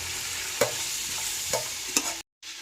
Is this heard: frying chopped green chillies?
yes